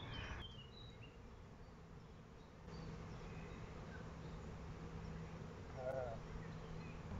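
Honeybees buzzing in an open hive, a faint, steady low drone throughout with a brief chirp of a bird in the background and no talking.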